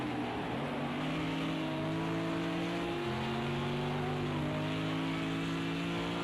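A GT3 race car in Project Cars 2 at Brands Hatch accelerates hard out of a corner, its engine note climbing loud and steady through the gears, with a brief shift dip midway and no voices.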